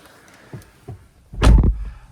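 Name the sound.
Ford Fiesta ST car door closing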